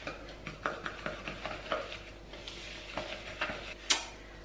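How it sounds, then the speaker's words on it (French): Egg being whisked by hand into cookie brioche dough, heard as quiet, irregular ticking and clattering taps of a whisk against a bowl, fairly faint and close, with a sharper clink near the end. "On rajoute l'œuf. Et on va venir fouetter tout ça."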